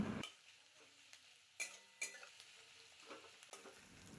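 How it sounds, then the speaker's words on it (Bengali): Onions fry quietly in a pan for a rohu posto curry, a soft, faint sizzle punctuated by several sharp spatula scrapes and clicks against the pan. "এবার এই পেঁয়াজটা আপনারা ততক্ষণ ভেজে নিন যতক্ষণ না এটা লাল লাল হয়ে আসছে"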